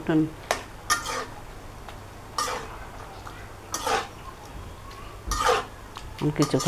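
Greens tipped into a cooking pan with dried fish powder, followed by a few distinct bursts of metal utensil scraping and clinking against the pan, separated by quieter gaps with faint background noise.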